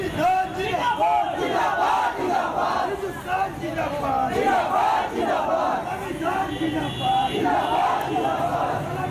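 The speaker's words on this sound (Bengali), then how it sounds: "আসানসোলের মাটিতেই পাকিস্তানের স্লোগান" A large crowd in Asansol chants pro-Pakistan slogans, loud massed voices shouting together in a continuous, rhythmic roar with no pause.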